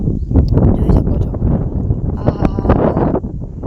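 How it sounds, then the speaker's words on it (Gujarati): Strong wind blows outdoors under dark rain clouds, buffeting the microphone with a loud, continuous rumbling roar that gusts unevenly. "પવન તો જો. આ કાળા વાદળા"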